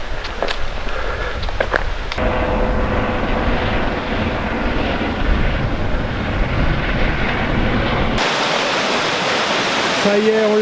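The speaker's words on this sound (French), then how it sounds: "C'est le bruit de la cascade." A constant broadband roar of rushing water from a waterfall in Waimea Canyon, Hawaii, fills the scene, loud and unbroken, with a sudden shift in tone near the end.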